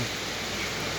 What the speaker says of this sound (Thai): วันนี้ฝนตกนะครับ ไปไหนไม่ได้เลยครับ